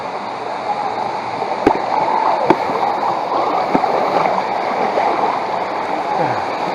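Water splashing and rushing around people wading into a cold tunnel stream at a Disney World water attraction, with sharp splashes over steady flowing noise and voices calling nearby.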